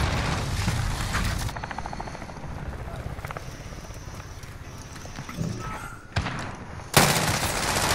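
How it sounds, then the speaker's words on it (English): In Call of Duty: Modern Warfare, a helicopter's steady rotor chop drones through the scene while bursts of gunfire crack near the start and end, loud and close. "buddy's doing work with that fucking chopper"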